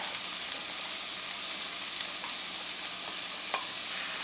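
Onions dropped into a hot pan start to sauté, giving a steady, loud, even sizzle with a few faint clicks and no talking.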